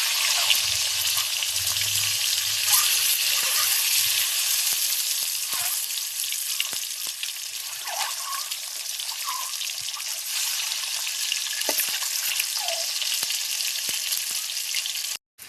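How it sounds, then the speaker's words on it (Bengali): Eggs fried until reddish-brown and stirred in a pan: a long, even, close sizzle with a few scattered scrapes and clicks from stirring, ending suddenly. "কি সুন্দরভাবে ডিমগুলো লাল লাল ভেজে নিয়েছি।"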